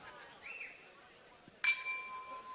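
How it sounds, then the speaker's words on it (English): A single bright clang of a boxing ring bell opens round one of a 57 kg featherweight semi-final at the Dubai Duty Free Tennis Center. It rings out after a quiet arena murmur, then its tone lingers and fades. "As the opening bell sounds"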